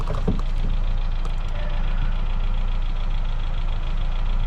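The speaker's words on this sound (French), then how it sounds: "Là j'attends que le moteur monte en température" A Renault Mégane engine idles steadily up close while warming up after being rebuilt, a low continuous rumble with a light knocking rhythm and no talking.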